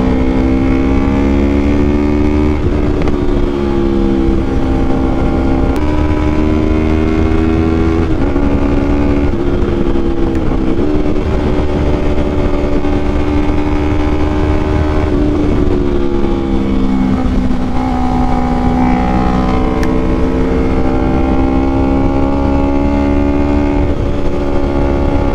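A Yamaha R3 motorcycle with a full Akrapovic exhaust system is held in fourth gear through high-speed cornering. The engine gives a loud, steady, close drone whose pitch dips and rises gently. There is no talking.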